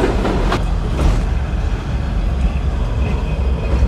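The Trenino Verde tourist train in Sardinia rumbles and clatters along the rails with a steady low roar and faint rhythmic clicks, loud and close throughout.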